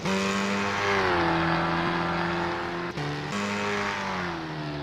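Formula 4 race car engine in a sim racing game at Croft on the final lap, a loud, steady high-revving whine with a brief gear-shift dip, close and continuous without talk.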